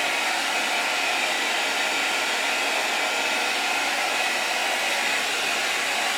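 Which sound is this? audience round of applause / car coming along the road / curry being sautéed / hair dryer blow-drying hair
hair dryer blow-drying hair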